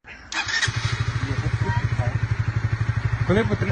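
A motorcycle engine kicks into life, then settles into a steady, close, pulsing idle with rapid regular thumps; a brief voice is heard at the start.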